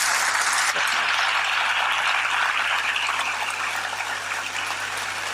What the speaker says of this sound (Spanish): Recibamos con un gran aplauso al profesor Alfonso Sánchez Hermosilla.